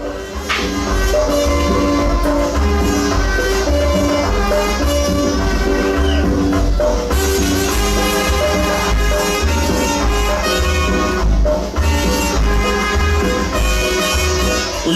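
A recorded tropical dance song, with brass, percussion and singing playing steadily and loudly throughout.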